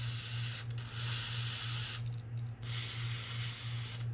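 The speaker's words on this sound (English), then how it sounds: "I'm gonna spray those bearings down also with some corrosion X" Corrosion X is sprayed onto the bearings of a Daiwa BG 4000 fishing reel in two sustained close hissing bursts, split by a brief pause, over a low steady hum.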